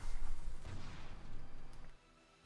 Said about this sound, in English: And let's fire up the cannon.